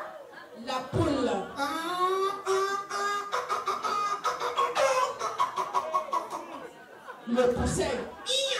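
At a birthday gathering, a voice imitates a hen with a run of quick, rhythmic clucks that build into a repeated stutter. Other voices and chatter are heard around it.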